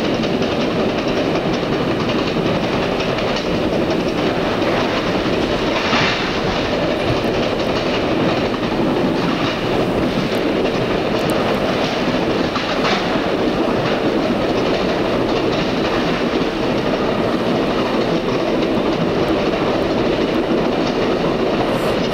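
Amtrak passenger train heading east, heard from the open rear door of the last car: a loud, steady roar of wheels and wind on the rails with faint clickety-clack and occasional wheel squeal, continuous and unbroken throughout.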